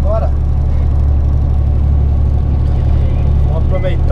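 Car engine pulling uphill in fourth gear on a residential street, a steady loud low drone filling the whole stretch, with someone talking over it.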